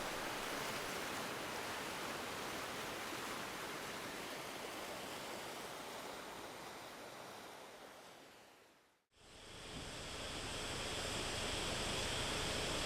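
Ojang Waterfall in Gujeol-ri, Jeongseon, Korea's highest at 127 m, sends up a steady, dense roar of falling water. The sound briefly cuts out and then resumes just as full.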